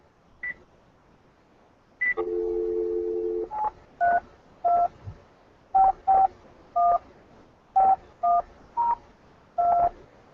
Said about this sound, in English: I'm also going to be dialing into our conference call to start the meeting